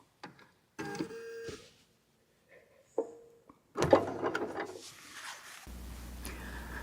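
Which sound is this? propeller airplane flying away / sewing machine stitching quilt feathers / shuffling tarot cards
sewing machine stitching quilt feathers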